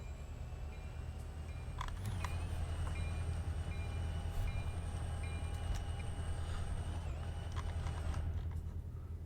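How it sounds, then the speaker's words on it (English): A train locomotive pulling out in the video game Blue River Mainline Remastered, with a steady, loud rumble and engine drone and some squeal and clank throughout. "Full, put the throttle in. Alright, we gotta get this train out of here."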